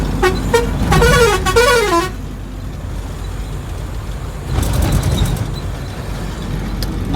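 A truck out on the road, with a loud multi-tone horn blaring for about two seconds and then a rumbling engine that swells again with a brief second horn burst, close by.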